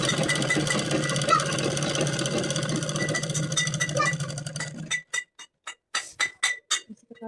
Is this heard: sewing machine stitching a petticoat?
yes